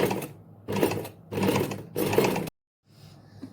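A sewing machine stitching a folded hem on a circle-cut blouse, four close, loud whirring runs in an even rhythm, then a short silence and a fainter start.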